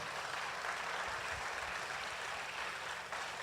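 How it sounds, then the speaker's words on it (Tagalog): Applause from a worship congregation at a church festival session, a steady, fairly quiet wash of clapping with a low rumble underneath, continuous throughout with no voices. "Palakpakan natin ang Panginoon"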